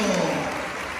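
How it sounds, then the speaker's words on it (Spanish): A church congregation at Sunday Mass applauds, a brief dense wash of clapping that fills the space evenly, with a faint voice underneath. "un aplauso para estos jóvenes"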